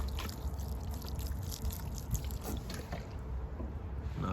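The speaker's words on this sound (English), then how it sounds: "Let's get a little bit of water on it and see how it looks." Water is poured onto a silver maple bonsai freshly set in a training pot, a steady soft splashing and trickle that runs close and unbroken with no talking.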